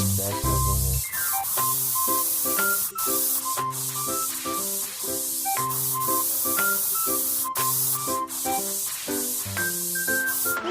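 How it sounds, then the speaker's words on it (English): Steady hissing spray paint on a steel plate at a cartoon car repair shop runs continuously beneath a bright, repetitive musical tune, with short pauses in the hiss. "Then spray the steel plate with paint."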